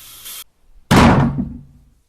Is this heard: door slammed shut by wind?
yes